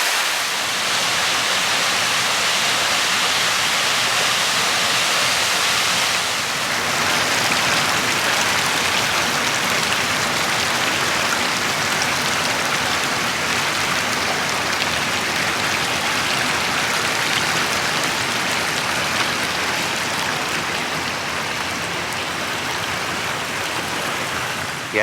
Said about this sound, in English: This runoff area is still trickling pretty heavy through here